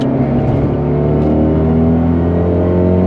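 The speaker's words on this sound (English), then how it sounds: "I'm gonna see if I can do a little third gear pull." Fiat 124 Spider Abarth with a big turbo pulling hard in third gear uphill, the engine note rising steadily and loudly from inside the car with a strong continuous drone and no talk.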